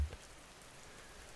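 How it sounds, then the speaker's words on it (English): Steady soft rain falls at night over an old Kyoto teahouse, a faint even patter with a brief low bump at the start. "Rain continues in delicate patterns, a slow lullaby that has no beginning and no end."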